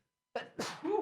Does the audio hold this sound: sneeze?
yes